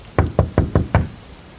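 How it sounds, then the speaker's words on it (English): Someone knocks on a door five times in an even, steady rhythm. The knocks are close and clear, used as a sound effect in a spoken horror story. "just past 4:30, there was a knock at the door"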